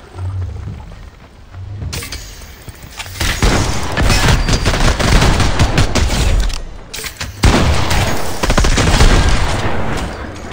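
Dense, loud gunfire in the video game Fortnite plays as a continuous barrage of shots and booms, with a short dropout partway through.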